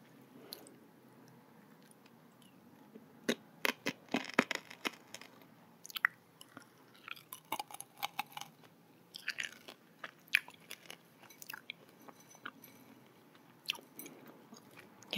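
Close-up chewing of a crunchy, puffed-rice-like snack: irregular crisp bites and crunches with wet mouth sounds, in quiet surroundings.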